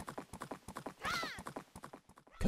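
Epona, the horse in the Zelda game Majora's Mask, trots with steady rhythmic hoof clip-clops, close and clear, with a short whinny near the middle and a louder thump at the end.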